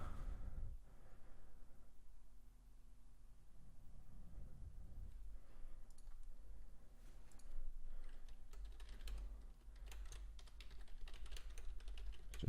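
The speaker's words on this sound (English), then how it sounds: "If you hear typing, that's just me making alerts" Steady keyboard typing clicks away at low volume over a quiet room hum, with bursts of keystrokes continuing throughout.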